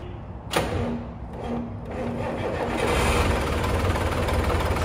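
A farm machine engine used for muck spreading cranks with a sharp burst and then settles into a loud, steady running drone that builds slightly, heard close up outdoors.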